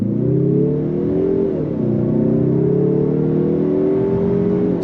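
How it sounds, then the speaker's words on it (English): A 2025 Mazda 3 Turbo with a turbocharged engine and 6-speed automatic accelerates hard from a dead stop, heard from inside the cabin as a steady, loud rising engine drone with a brief dip at a gear shift. "We're gonna go on throttle from a dead stop."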